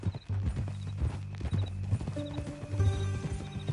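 Horse hooves clip-clopping at a steady walk in Red Dead Redemption, close and rhythmic, with a faint whinny and game music layered underneath.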